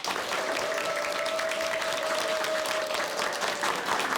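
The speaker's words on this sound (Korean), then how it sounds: "큰 박수로 맞이해 주시기 바랍니다." Audience at a televised lecture applauding to welcome a speaker onstage: dense, steady clapping from a large crowd, loud and continuous throughout.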